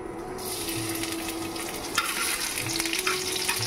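Garlic frying in hot oil, a steady close sizzle with light stirring scrapes and clinks of a utensil throughout, no talking.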